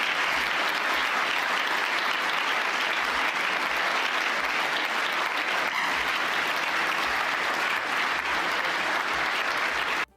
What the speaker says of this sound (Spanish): Se han puesto hasta de pie para aplaudirle, rendirle pleitesía, como borregos